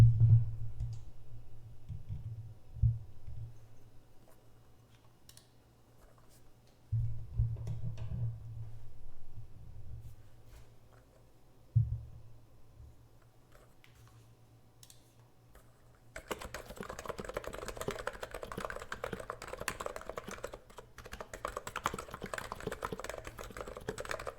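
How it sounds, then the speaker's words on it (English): Keys clack in a few scattered bursts at first, then a fast, continuous run of typing on a nearby NiZ Atom 68 electro-capacitive keyboard fills the rest, crisp and close-miked. "I'll bring the mic closer to the board for the thock sounds."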